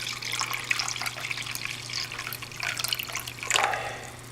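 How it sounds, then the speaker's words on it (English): Warm water, between 105 and 110 degrees, is poured into a cup for pizza dough, making a steady, close splashing trickle that runs the whole time with a brief louder surge near the end and no talk. "I'll take 1 cup of the warm water."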